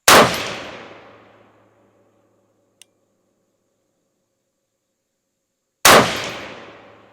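Two sharp, loud rifle shots from a 6mm ARC rifle, spaced several seconds apart, each with a long echoing decay, and a tiny faint click between them.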